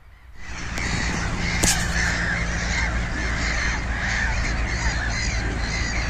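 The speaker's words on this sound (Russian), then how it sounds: "А также здесь есть красивое озеро с орущими чайками." Gulls cry continuously over a lake, many birds at once, in a dense, steady chorus of harsh calls that starts abruptly and holds loud throughout.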